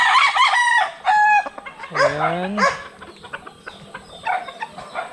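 A fighting-breed broodcock rooster crows loudly up close, a long rising cock-a-doodle-doo followed by several short clucks, while someone speaks briefly in between.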